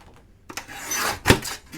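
Material for a hardcover travel journal is cut, heard as a single short, close rasping stroke that rises, then a sharp scrape, in an otherwise quiet room.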